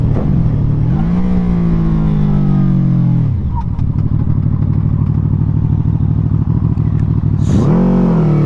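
A QJmotor Flash 600 V4 motorcycle's engine roars close by and drops in pitch as the rear brake slows it, then settles into a steady throb with faint clicks before revving up again.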